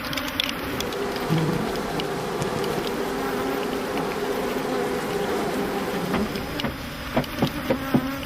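A dense, steady hum of many bees buzzing close around hive supers at an African commercial beekeeping operation, a continuous droning swarm with occasional light taps near the end.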